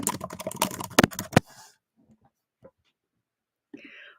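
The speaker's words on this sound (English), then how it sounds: "A little ASMR typing for you guys today." Fast typing on a computer keyboard, a dense burst of close, crisp key clicks and a few heavier thumps that stops abruptly, leaving near silence with a couple of faint sounds and a brief rustle at the end.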